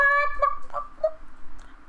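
A person imitates a chicken with a loud, close, nasal squawk followed by a few shorter clucks, alone with no other talk.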